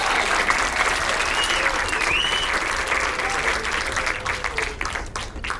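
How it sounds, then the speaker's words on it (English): Stand-up comedy audience applauds steadily and loudly throughout, a dense continuous clapping with some crowd noise and a few voices, fading slightly at the end. "Please, a round of applause for yourself."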